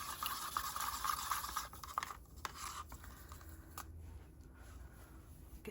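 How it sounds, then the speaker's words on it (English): Glitter liquid being stirred inside a mini snow globe Christmas decoration, faint close-up swirling and light clinking taps, fading to softer movement toward the end, with no talking. "Let's give that another stir."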